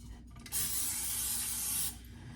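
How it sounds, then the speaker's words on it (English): Grease cooking spray hisses into a bowl of rising white bread dough in one steady burst lasting over a second, close and clear against a quiet kitchen. "Oops, I left my spray. Grease. I would re-grease your bowl"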